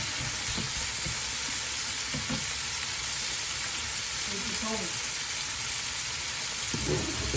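Beef mince with chicken liver and pine nuts sizzling and frying in a pan as it is stirred and mixed, a steady hissing sizzle with occasional scraping stirs, close by.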